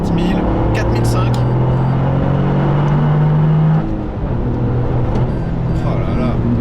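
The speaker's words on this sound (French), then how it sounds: "le turbo charge tellement fort à partir de 4005 qu'il n'y a pas besoin de descendre" Turbocharged Toyota GR Yaris engine pulling hard in third gear, a loud rising drone that holds near, then eases off around the midpoint, with someone talking over it.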